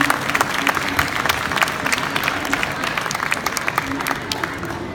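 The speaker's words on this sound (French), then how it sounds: "Chelia Kuni, on les applaudit, s'il vous plaît." An audience at a taekwondo demonstration in Québec claps steadily, with distinct individual claps audible within a moderate, fairly close applause that holds evenly throughout.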